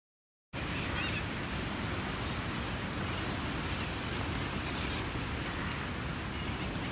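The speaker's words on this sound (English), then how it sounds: "It's a little bit windy." Steady wind roars across the microphone in the open outback near William Creek in Central Australia, a continuous broadband rush that starts abruptly and stays loud with no talk over it.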